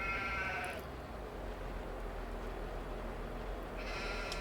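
Sheep bleat in two wavering cries, one at the start and one near the end, fairly faint over a steady low rumble of background noise.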